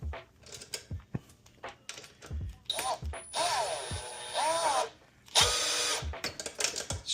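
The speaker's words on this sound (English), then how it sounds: "you may have to grab your drill" A power drill whirs in a few short bursts, rising and falling, between clanks and handling noises nearby.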